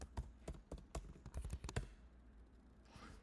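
Soft, quick keystrokes on a computer keyboard while a command is typed into a terminal, a close burst of irregular taps lasting under two seconds, then a quiet pause with no voices.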